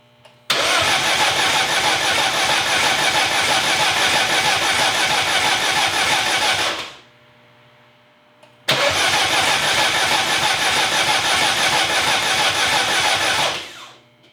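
A built, big-turbo Mini engine cranks and fires twice, each time a loud, steady roar holding for about six seconds before cutting off, with a short quiet gap between the two runs.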